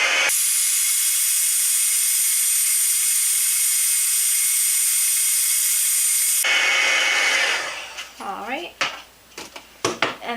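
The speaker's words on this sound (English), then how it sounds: "I'm going to take my heat gun and just kind of heat set the white ink that I just put down" A handheld heat gun blows a loud, steady hiss for about six seconds while heat-setting white ink on a card, then cuts off. Brief clattering and handling noises follow.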